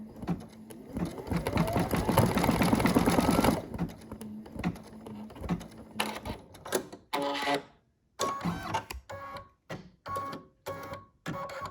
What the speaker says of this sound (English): You can see how quiet the machine is. It just does a wonderful job of putting the little red balls on there.